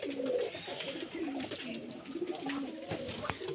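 Giribaz and black gola pigeons perched in rows in a loft coo continuously, with soft repeated throaty calls layered at moderate distance and a few sharp clicks near the end.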